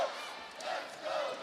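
Spectators at a GCU women's volleyball match against Fordham cheer and chant for the Lopes, a steady crowd roar that rises and falls, with a commentator's voice faintly mixed in.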